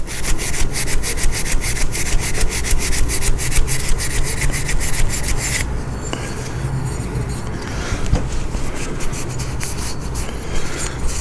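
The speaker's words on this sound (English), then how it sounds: "Just a little bit of WD-40 and steel wool, and it'll take off the rust or any of that, whatever that corrosion was." Steel wool soaked with WD-40 scrubs corrosion from inside a steel magazine in steady, rapid back-and-forth rasping strokes, loud and close, changing to a duller rubbing partway through.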